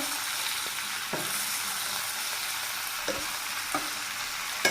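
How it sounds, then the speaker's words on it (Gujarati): Sliced okra fries in a pan for an okra and potato dish, a steady close sizzle with a few light spatula taps scattered through. "હવે આપણો ભીંડો આપણે નાખી દીધો હવે કકડી ગયો છે તેનાથી હજી થોડીક વાર આપણે કકડવા દેવાનો છે"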